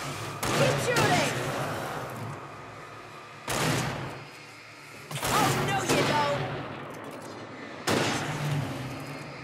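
Repeated bursts of gunfire in the Alan Wake video game, four loud volleys spaced a couple of seconds apart, each with a sharp onset and a ringing tail, under faint game ambience and occasional voices.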